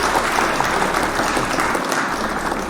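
Canned applause sound effect played on a live morning show, a dense, steady wash of crowd clapping at even loudness, with no talking over it.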